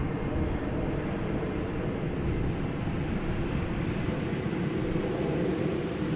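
EasyJet Airbus A320neo airliner arriving at Amsterdam Schiphol from Birmingham, a steady broadband engine roar with low rumble holding constant throughout, mixed with some wind noise on the microphone.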